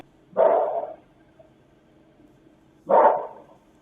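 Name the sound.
dog barking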